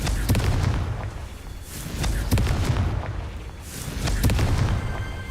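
Blasting spell from the Hogwarts Legacy video game: a series of booming, explosive bursts with sharp cracks, repeating roughly every second or two over a continuous rumbling game soundscape.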